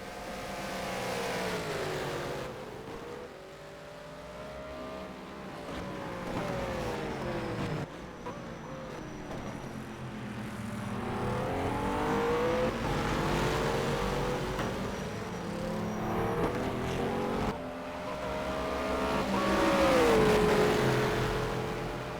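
Race cars in a racing video game at Bahrain, engines whining and climbing through the gears in repeated sweeps as they pull away, tones rising and shifting as several cars sound together, no voices present.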